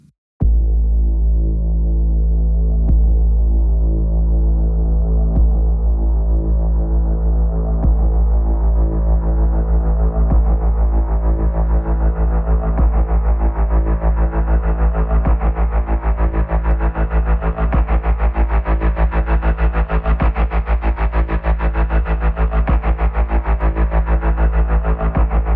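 A Gravity 2 synth note held for over twenty-five seconds, a loud, dense, distorted drone with rhythmic pulsing that brightens gradually as a macro ramp opens it up, with no talking.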